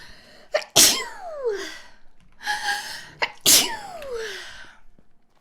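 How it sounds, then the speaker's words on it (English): Two loud close sneezes, each a sharp intake followed by an explosive burst, separated by a short pause, with breathy sounds around them. "I'm gonna sneeze."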